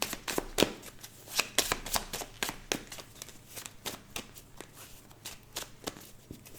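Tarot cards being cut and shuffled at a morning reading, a rapid run of crisp riffling snaps and soft slaps, close and fairly quiet, with no talking.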